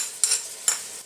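Tomatoes fry in a ginger, garlic and coriander paste for Lahori anda chanay, with three short bursts of sizzling as the mixture is stirred, settling to a softer hiss between strokes.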